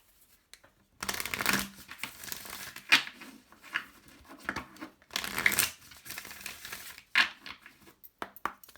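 Oracle cards are handled and shuffled in bursts, with papery riffling and slapping sounds coming in uneven clusters, close and moderately loud, separated by short pauses and with no talking.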